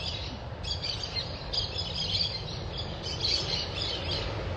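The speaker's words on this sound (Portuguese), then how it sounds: "E hoje a musiquinha é o canto dos pássaros." Birds chirp and trill steadily in an open outdoor space, a dense layer of overlapping calls over a low rumbling background, with no one speaking.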